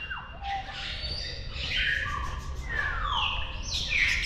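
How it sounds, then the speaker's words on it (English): Several parrots squawk loudly with harsh, sweeping calls that overlap one another, set against a low background hum, at a zoo in Baghdad, Iraq. "Parrots."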